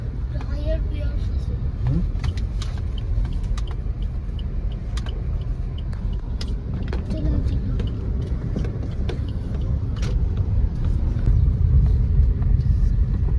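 A vehicle rumbles along a potholed road near Ramodi while making a U-turn, with a steady low engine and road drone beneath talking voices and occasional knocks over the bumps.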